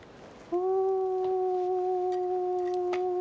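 A man howls like a wolf while hunting, one long steady imitation howl held loud and unbroken for several seconds, with faint background noise before it starts.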